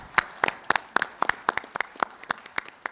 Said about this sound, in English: let's close this with a very loud round of applause.